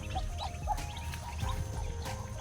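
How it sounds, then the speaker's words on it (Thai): Several soft Bali duck quacks sound at irregular intervals over a steady, noisy outdoor background, fairly faint and not too close. "เป็ดบาวารีแท้นะครับ"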